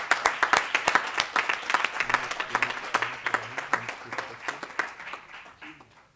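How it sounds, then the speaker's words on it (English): Audience applause at a graduation ceremony: dense, sustained clapping from a large crowd with sharp overlapping claps, gradually thinning toward the end. "Can we all have a big round of applause for all of them?"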